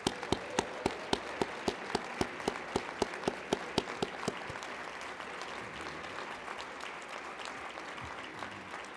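Audience at an awards ceremony applauds with a dense, steady wash of clapping, a few sharp nearby claps standing out early, sustained at moderate loudness throughout.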